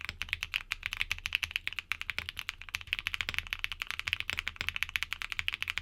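Fast, continuous typing on a keyboard with tactile switches, crisp, bright clacks in a rapid uneven rhythm, close up and alone.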